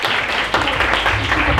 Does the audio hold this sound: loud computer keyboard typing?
no